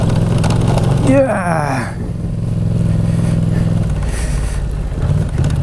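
A Yamaha Tracer motorcycle engine drones loudly and continuously while riding an off-road test track, with a brief rising rev and rough, buffeting noise throughout; a voice speaks briefly over it.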